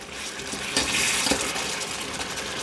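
Cowboy beans being stirred in a pot as they heat on the stove, a soft close scraping and bubbling sizzle of a thick sauce with a brief louder scrape midway.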